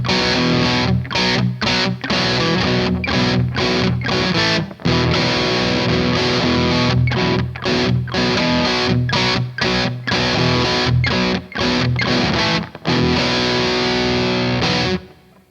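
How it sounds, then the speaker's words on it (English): Electric guitar with Zakk Wylde EMG active pickups played through overdrive into a Vox amp and cab simulation, loud crunchy chords and riffs chopped by frequent short stops and palm-muted breaks, with no voice over it. "We got a little bit of overdrive through a Vox amp and cab simulation."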